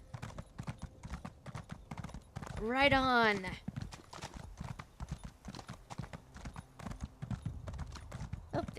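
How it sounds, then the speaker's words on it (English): Horse hooves clip-clopping in a steady rhythmic gait in the video game The Elder Scrolls Online, with a loud whinny partway through and a voice speaking briefly. "Ride, horse."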